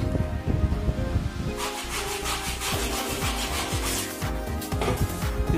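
Ceiling cornice molding is cut by hand during a DIY room build, with close, loud scraping and rasping strokes in an uneven rhythm and no talk.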